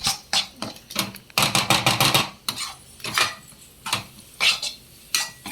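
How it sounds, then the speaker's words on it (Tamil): Noodle masala stirred and fried in a pan, a spoon clattering and scraping against the metal in quick repeated strokes, close and clear with no talk. "நல்லா கிண்டிக்கணும், மசாலாலாம் கொஞ்சம் நல்லா ஃப்ரை ஆகும்."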